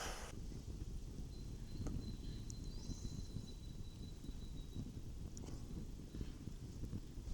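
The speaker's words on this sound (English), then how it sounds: "That wind that's coming through." Steady wind rushes through the trees of a state forest, a constant broad roar with faint rustling and a few soft knocks in the background.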